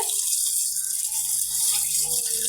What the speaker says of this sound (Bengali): তো এখন আমরা মাছগুলোকে ভালো করে পরিষ্কার করে নিব